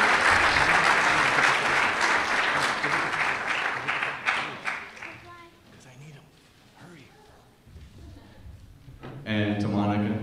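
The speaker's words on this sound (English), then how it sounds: "I think they both deserve a big round of applause." A crowd at a sports banquet gives a big round of applause, loud and dense at first, then fading into scattered claps and murmuring before a speaker resumes talking.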